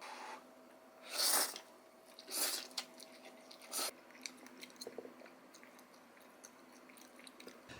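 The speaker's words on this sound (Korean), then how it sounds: "같이 먹어보도록 하겠습니다." Someone eating a meal of seasoned grilled pork and pasta at home, with a few distinct crunchy bites and chewing bursts early on, then quieter intermittent mouth sounds and small clinks in a calm room.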